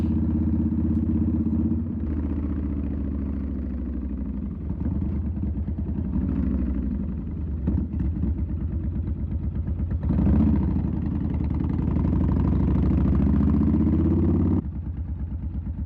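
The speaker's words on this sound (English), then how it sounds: "see if we can get some decent exhaust tones coming off the buildings from it" A Yamaha Warrior 1700 motorcycle with Cobra Long Shots exhaust rumbles close by among buildings with a throbbing exhaust note, rising and falling through revs over about sixteen seconds.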